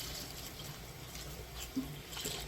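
Freshly dyed yarn is rinsed under running water, making a steady, even splashing and hissing rush close by, with a brief knock near the end.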